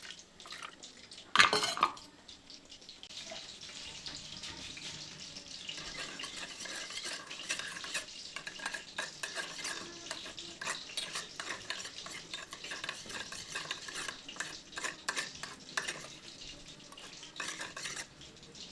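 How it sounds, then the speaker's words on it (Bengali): A utensil stirs salt, sugar and a little water together into a sauce, producing a continuous quick clicking and scraping against the container after one sharp knock near the start. "আর দিচ্ছি লবণ, আর সামান্য চিনি দিয়ে এটিতে একটু জল দিয়ে গুলে নেব।"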